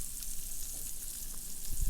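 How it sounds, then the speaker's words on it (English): Onion frying in a hot pan, a steady close sizzle with crackling spits through the whole stretch, no voices over it. "Put the onion in there all nice and firm. Yeah, that sizzle, man."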